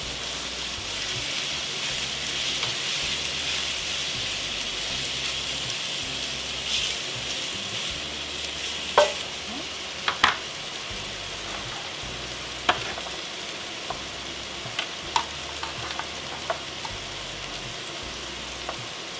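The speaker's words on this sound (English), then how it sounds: "we're going to give this a stir" Chicken sausage and spinach sizzle steadily in a frying pan for bowtie pasta, with a few sharp clicks and scrapes from a utensil as the mixture is stirred now and then.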